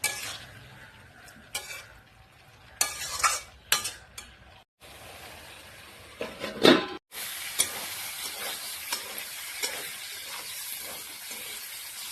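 Spinach fries in a pan with salt and turmeric, stirred with scattered scrapes and clatters at first, then a loud sizzle bursts in and keeps a steady hiss close by.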